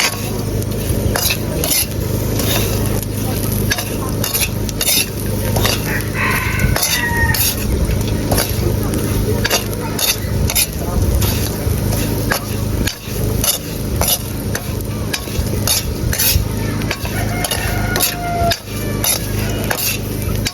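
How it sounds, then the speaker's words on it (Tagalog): A spatula scrapes and stirs food in a dry pan with no oil, loud repeated scraping strokes over a faint sizzle, with a rooster crowing somewhere in the outdoor setting. "Haluin lang ng haluin para hindi masunog."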